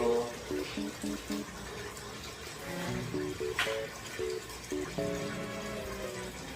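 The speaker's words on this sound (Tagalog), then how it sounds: "malakas ang buga ng tubig" Strong water flow gushing into a DIY filter bucket for a crayfish tarp pond, a continuous splashing pour heard up close, with someone talking over it.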